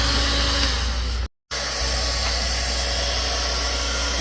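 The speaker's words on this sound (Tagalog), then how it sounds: "Ito yung gagamiting blower, Mitsubishi Tools." A Mitsubishi Tools heat blower, used to soften material while fitting LED strips on a Honda Click 125 scooter, runs with a loud, steady whooshing hum that stops for a moment and resumes.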